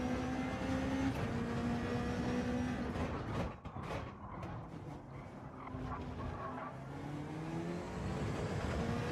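Racing engine of a BMW Gr.1 car lapping Spa in Gran Turismo 7, a steady droning whine with shifting pitch that dips briefly mid-way, then swells back up.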